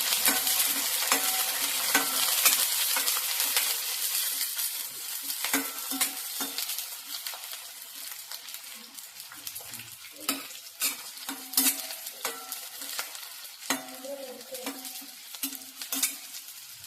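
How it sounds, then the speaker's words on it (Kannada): Green chilies fry and sizzle in a pan with oil while a spoon stirs them, scraping and clinking against the metal. A constant close hiss runs through the whole stretch, and no one speaks. "ಹಾಕಿ ಚೆನ್ನಾಗಿ ಕೆಂಪಾಗೋನ್ನ ಹುರಿಬೇಕು ಅವನು"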